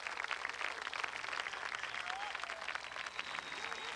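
A crowd of onlookers at a whale rescue cheers and applauds in a dense, steady wash of clapping and voices, fairly close and continuous throughout.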